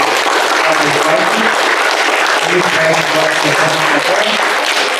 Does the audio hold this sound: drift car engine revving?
no